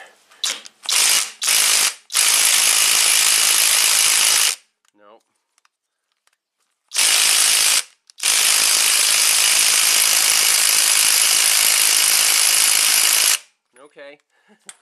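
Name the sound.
ratchet wrench trying to remove big bolt on Audi 200 Quattro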